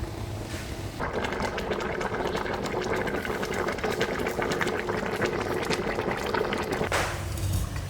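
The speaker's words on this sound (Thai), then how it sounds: "ตุ่นไปเลยค่ะ หาฝาหม้อไม่เจอค่ะ ก็เอาแบบเปิดแล้วกันนะคะ" Pork leg stewing in an open pot, a steady bubbling simmer that holds at a constant level for several seconds with no talk over it.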